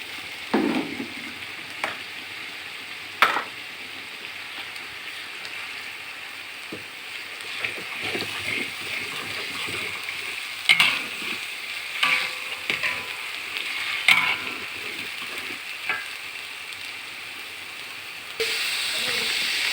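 Lemongrass goes into a pan of frying spices for chicken rendang, giving a steady sizzling hiss with scattered scrapes and knocks from the stirring utensil, close by.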